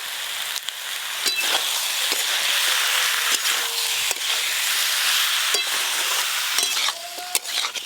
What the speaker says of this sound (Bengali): সব কিছু একসঙ্গে ভালো করে কষে নেব।